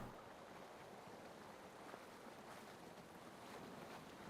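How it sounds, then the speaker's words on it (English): Storm at sea in SCUM, with steady wind rushing over rolling waves and water washing continuously, a broad even roar at moderate level with no voices. "The dark clouds go over, it starts raining, the wind picks up, a little bit of wave action going"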